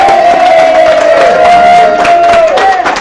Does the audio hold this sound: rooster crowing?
no